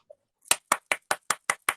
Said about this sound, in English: someone's just sent me an applause